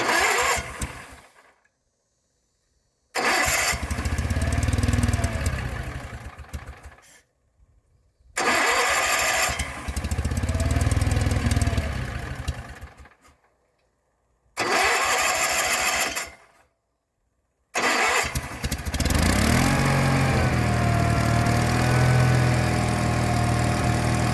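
An old skid steer's engine cranks in several close, loud attempts separated by silent pauses, with a churning starter and sputtering, before finally catching and running steadily at the end.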